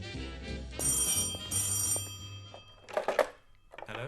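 An old telephone bell rings in two bright, metallic bursts, followed by a clunk as the receiver is picked up and brief rustling.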